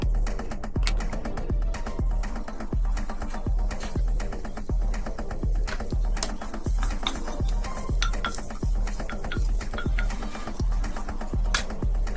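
Sweet potato corned beef hash being stirred in a pan off the heat, with steady scraping and clinking of a utensil against the metal in a fairly even rhythm throughout, close and clear with no talking.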